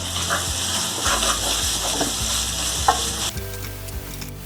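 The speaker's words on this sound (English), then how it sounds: "Add onion, some salt, saute it well." Chopped onion and salt sautéing in a hot pan, a close, continuous sizzle with soft stirring scrapes and light clinks, the hiss cutting back abruptly near the end as the heat or stirring changes.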